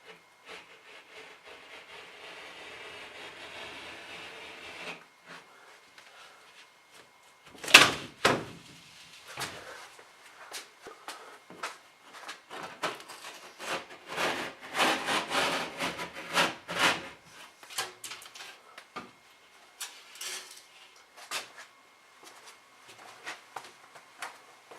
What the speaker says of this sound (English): To cut sheetrock, you just need to make a shallow cut from one side. Then you can pop the board and it'll break across that line